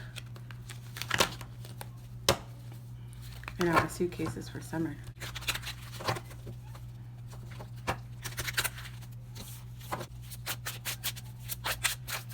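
A newer deck of tarot cards is shuffled by hand in a series of short crisp riffles and flicks, close and fairly quiet over a low hum, while someone talks in between.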